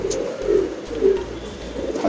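Roller pigeon cooing close by: several soft, low, throaty coos repeat in a steady rhythm over about two seconds, with no speech over them.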